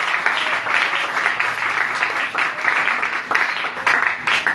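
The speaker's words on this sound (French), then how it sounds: "Si on peut encore acclamer pour la gloire du Seigneur." A church congregation applauds steadily for the glory of the Lord, a dense, continuous wash of many hands clapping with slight surges in intensity throughout.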